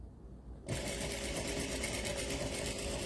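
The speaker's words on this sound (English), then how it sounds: "save thread and starting and stopping my blocks so I can chain sew" A sewing machine starts abruptly after a moment of quiet and runs at a steady, fast hum, chain sewing quilt block pieces at a 1/4 inch seam, loud and close with no talk.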